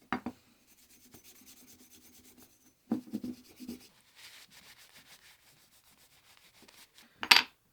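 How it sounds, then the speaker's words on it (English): Steel wool with paste wax rubbed over a rusty Stanley spokeshave part in short scratchy bursts separated by quiet pauses, close and soft, ending in one sharper scrape. "hit with steel wool and wax, just to get the rust off of it"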